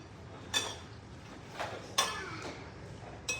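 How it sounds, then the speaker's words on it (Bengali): Two spoons clink against a bowl as food is mixed, a few sharp metallic taps spaced irregularly over a quiet room background. "একসাথে 2টা চামচ দিয়ে মিক্স করো"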